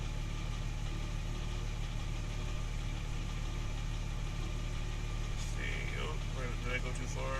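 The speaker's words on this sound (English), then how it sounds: "Okay, so now the engine's warm, and I want to go down and see if I still have misfires." A warm Porsche 996 Turbo with misfires on cylinders 3 and 6 idles with a steady, close, low drone throughout, and a person speaks briefly near the end.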